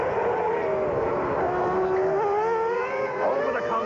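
Formula One cars from the Coulthard and Michael Schumacher era race flat out, a loud continuous high-revving engine scream with rising and falling pitch as they pass, steady and close throughout.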